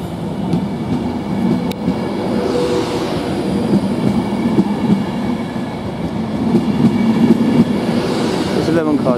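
An 11-car Avanti West Coast Class 390 train departs London Euston for Liverpool Lime Street, giving a steady loud rumble and rolling wheel noise that stays close throughout, with a faint squeal near the end.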